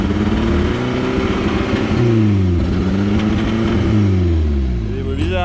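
Volkswagen Golf 3 GT engine, 110 hp, that stalls under full throttle, revving up and down in rising and falling waves with a loud, close drone while people talk over it.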